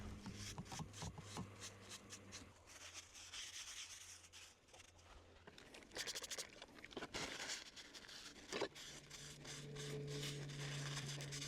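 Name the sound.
wiping down camp dishes outdoors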